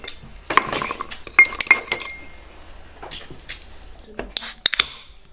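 Glasses clink together in a toast at the end of a meal, with several sharp, bright clinks scattered across a few seconds amid quiet voices and table sounds.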